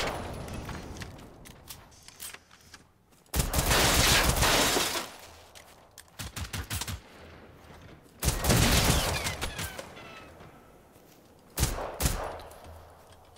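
Bursts of gunfire in the video game Generation Zero, dense rapid volleys and fusillades crackling in several loud clusters separated by quieter gaps with scattered single shots.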